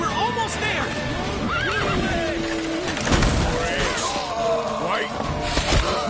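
Horse whinnies and clip-clopping hooves in the Witcher 3 game ring out repeatedly amid a busy, loud battle soundscape with booms, impacts and shouting voices.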